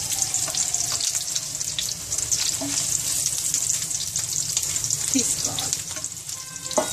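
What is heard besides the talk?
paneer korma ingredients frying in oil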